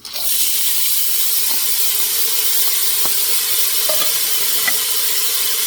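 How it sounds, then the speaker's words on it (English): Onion, peppers and celery hit a hot pan for white bean chicken chili, setting off a loud, steady hiss of sizzling with a few faint clinks. "while our pan is still good and hot, I'm going to go in and add a vegetable melody. This is onion, peppers, and celery"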